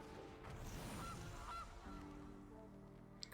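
A goose card in the video game MTG Arena sounds off with a few nasal goose honks in quick succession, fairly faint, over a quiet musical background with no talking.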